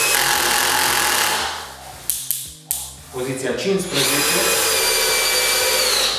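A 20V 2.0Ah cordless drill runs loudly with a steady high whine that stops briefly around the middle while a speaker talks, then starts up again at a higher speed.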